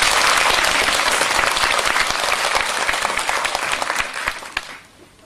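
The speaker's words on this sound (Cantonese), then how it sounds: "多謝容教授，我哋俾啲掌聲" A crowd at a Cantonese opera research award ceremony gives a professor a dense round of applause. The clapping stays strong for about four seconds, then thins out and fades.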